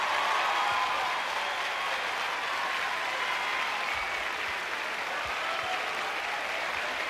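A circus audience gives loud, dense, continuous applause for football star Eusébio and a singer, with a wash of many hands clapping at once throughout.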